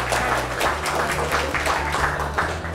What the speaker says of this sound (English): how about a round of applause for 80 years